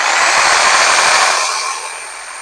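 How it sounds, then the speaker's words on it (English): A small power saw runs steadily while drawing power from a BLUETTI AC240 2400W portable power station, giving a continuous high whine that eases slightly toward the end. "One of these little saws, they don't pull a lot of power."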